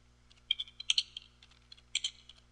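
Quick, light keystrokes clatter on a computer keyboard in short irregular bursts, close and quiet, with a couple of slightly louder clusters of taps and no talking.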